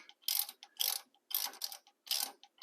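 Ratchet cranking a 7/16 retainer nut on a Wilwood front disc brake caliper, close and clear, in four quick bursts of clicking separated by short pauses.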